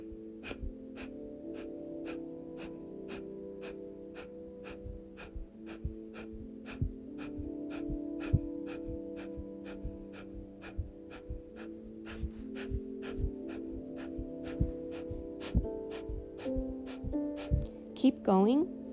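Rapid pumping breathwork breaths, a fast steady rhythm of sharp forceful inhales and exhales repeating close up over a low droning musical background, quickening near the end.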